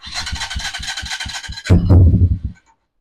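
An XPRO Titan 250 dirt bike engine cranks with a quick, rhythmic churning, then catches into a louder, rough, low burst for under a second before cutting out to silence.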